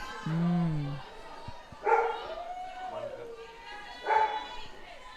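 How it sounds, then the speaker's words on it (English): Excited dogs at a softball ballpark before a women's club championship game give a few yips and barks, some close, with someone talking over them as a game commentator. "Ballpark doggies all excited for the first game."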